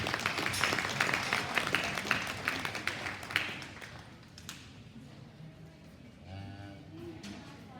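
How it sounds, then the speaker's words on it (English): An audience at a cattle show applauds the reserve champion heifer with a burst of clapping that fades out. A voice talks under the applause and then continues alone. "Let's give her a nice round of applause."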